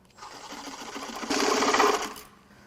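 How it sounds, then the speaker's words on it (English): Reciprocating saw blade cutting through an engine drive belt on a 2020 Chevrolet Silverado 1500 with a 3.0 Duramax diesel, a steady buzzing rasp that swells louder midway and then trails off, close up and alone. "I can get a Sawzall blade in there and carefully cut the belt"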